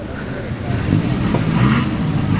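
A loud vintage racing car runs at the Prescott hillclimb, its engine growling with a rising rasp that swells over a couple of seconds, while a person talks nearby.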